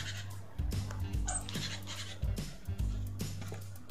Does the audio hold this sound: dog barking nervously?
yes